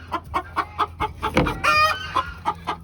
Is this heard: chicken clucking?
yes